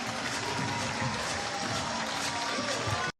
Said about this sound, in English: Generous round of applause for both of them.